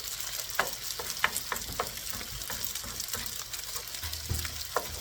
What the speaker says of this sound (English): Give them a stir, mix it up, lightly scramble.